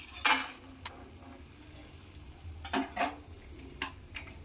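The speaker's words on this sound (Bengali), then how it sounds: "এই মতো অবস্থায় আমি বড়িগুলো একটু ভেজে নেব।" Lentil dumplings (bori) fry in hot oil in a kitchen pan, a low steady sizzle broken by several sharp stirring clatters.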